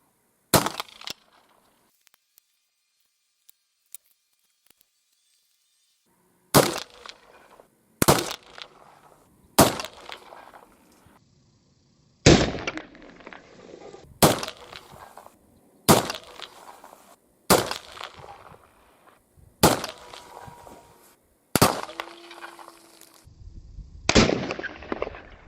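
A folding-stock muzzleloader fires a string of about eleven sharp shots outdoors. A few quiet seconds pass before the first, then the rest come at roughly even intervals, each a loud crack followed by a short ringing decay.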